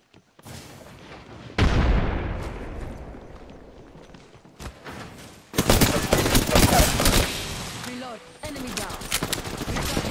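A frag grenade blows up in Apex Legends with a sharp burst and fading rumble, followed later by a dense stretch of rapid gunfire, with game voice lines spoken over it.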